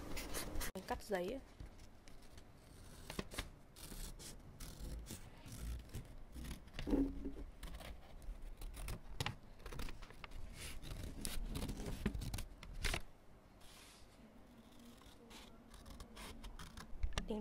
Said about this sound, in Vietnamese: Cắt giấy.